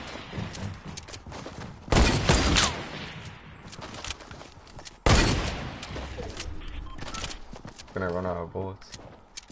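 Gunfire in the video game Fortnite: a couple of loud, sharp bursts of shots stand out, with scattered smaller cracks in between, while a player talks over the action throughout.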